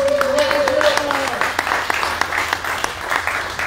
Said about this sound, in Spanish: Un aplauso para Ignacio.